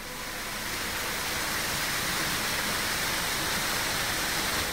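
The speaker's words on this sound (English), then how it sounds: "When you are halfway in the curve section, you get to the tallest waterfall." Steady broadband roar of the tallest waterfall in Sambalat, Elgeyo Marakwet, where water drops about 50 meters. The rush is continuous and fairly loud, with no voices.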